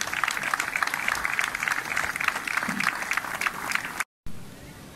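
Applause from a crowd at the religious procession for San Vito in Omegna, Italy, a steady wash of many clapping hands lasting about four seconds before cutting off abruptly, moderately loud and slightly distant.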